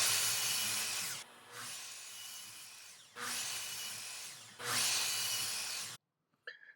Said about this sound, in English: This is the process of cutting the bridle joint.